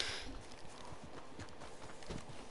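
A horse walks with soft, uneven clip-clop hooves in the video game Red Dead Online, quiet and somewhat distant under low background noise.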